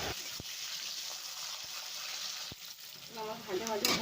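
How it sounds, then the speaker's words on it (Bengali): Bitter gourd slices fry in hot oil in a home kitchen, giving a steady, close hiss with a few sharp clicks and, near the end, some faint tonal clatter. "উচ্ছেটা লাল লাল করে ভেজে নেব।"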